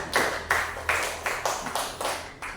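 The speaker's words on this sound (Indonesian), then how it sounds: "Ya, tepuk tangan untuk kelompok 3." Classroom applause for a student discussion group, heard as a handful of separated, rhythmic clap-like bursts about every half second, fairly close and moderately loud, with no talking over it.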